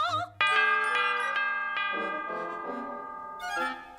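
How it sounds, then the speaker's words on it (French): An elephant bell rings out with a bright, ringing, metallic tone that slowly fades, followed by a second softer chime near the end. "Une cloche pour éléphant."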